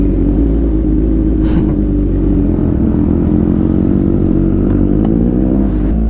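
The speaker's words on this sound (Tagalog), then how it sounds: "Buti pa si Joseph, naka-preheat na yung motor niya para hindi sila magising" A Kawasaki Z1000 motorcycle fitted with reed valves sits warming up nearby, its engine idling steadily with a loud, continuous low rumble and faint clatter throughout.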